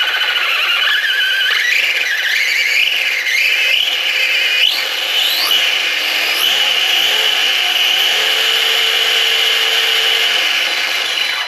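ARRMA Mojave 4S RC car on a 3S battery with a metal differential, close by and loud: a steady high whine and gear rasp with rising and falling pitch sweeps as it speeds up and slows.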